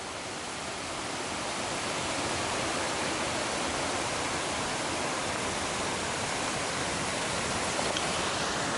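Steady rushing water fills the space, a constant broad hiss of a flowing seasonal creek on the Pacific Crest Trail, with no pauses, fairly loud and close.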